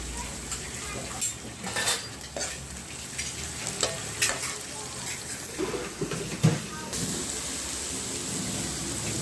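Onions sauté in a pan for an egg curry, a steady sizzle broken by repeated spatula scrapes and metallic clinks against the pan, close, with faint speech at times.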